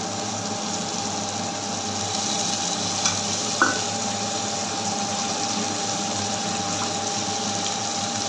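Potatoes frying in a pan as mustard paste goes in for a Bengali bata fish curry, giving a steady, even sizzle with a couple of brief clinks partway through and no talking.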